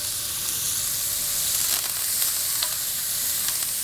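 Onion, celery, garlic, thyme and a bay leaf frying in a pan for braised short ribs, a dense, even sizzle with occasional light stirring clicks, no voices.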